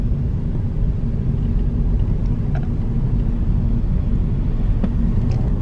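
A car driving down a lane, heard from inside as a constant loud, low road rumble and engine drone that holds steady throughout, with faint higher ticks and no voices.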